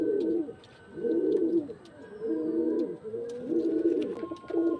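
Pigeons in a home loft coo in four or five slow rolling phrases, near and moderately loud, with faint chirps and clicks in the background.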